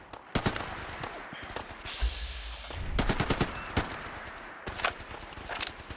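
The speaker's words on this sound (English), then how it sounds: "I really, really like the sound this particular gun makes without a silencer on it." Modded assault rifle in Fallout 4 fired without a silencer, sharp unsuppressed shots in quick bursts and single cracks, loud and close, with a low rumble between volleys.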